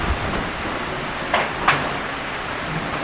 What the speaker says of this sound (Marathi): वाऱ्यावाला पाऊस आहे.